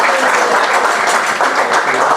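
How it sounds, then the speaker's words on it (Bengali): Guests at a tape-tennis cricket players' meet-and-greet give loud, sustained applause, a thick crowd of clapping hands throughout, with some voices mixed in. "সেই সমস্ত মানুষদের জন্য একটা জোরে করতালি দিতে চাই"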